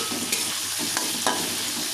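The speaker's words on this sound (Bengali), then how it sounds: "তো এটা ভাজা ভাজা হবে, আমি একটু ঢাকা দিয়ে নাড়া দিচ্ছি" Potatoes fry in a pan with a continuous close sizzle, while a few light scraping stirs of a spoon break through the hiss.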